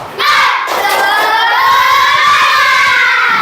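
Schoolchildren in an Indonesian classroom shout together in a loud, sustained group chant for a spirit clap, voices ringing out continuously with little audible clapping beneath.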